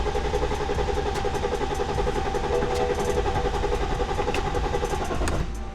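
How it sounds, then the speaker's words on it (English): A cheap used daily-driver car bought from Copart, with a suspected fuel pump problem, cranks over and over without starting. The loud, steady churning starter drone runs unbroken and fades slightly at the very end. "It's cranking and ain't doing anything though."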